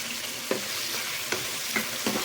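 Cooked bottle gourd pieces are sautéed in hot oil, giving a continuous bright sizzle near at hand, punctuated by four evenly spaced spatula knocks against the pan.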